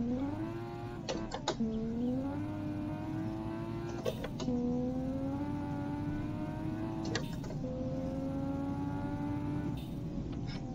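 Car engine in BeamNG.drive revving up steadily with harmonic engine tones rising and holding, broken by sharp shifts or clutch dumps around a few points, continuous and fairly loud with no talk.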